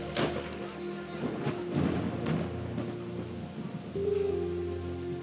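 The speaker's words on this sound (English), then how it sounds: "When this rain stops," Heavy rain with rumbles of thunder during a nighttime church praise service in Akaeze, a steady, dense wash of downpour with low rolling swells, loud and close with no talk over it.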